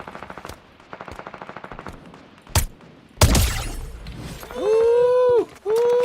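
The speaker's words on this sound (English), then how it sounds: "I hear more gunfire somewhere else over here" Rapid machine gun bursts from a video game shooter, several short rattling volleys followed by a loud blast and rumble, close and prominent, with no talking over them.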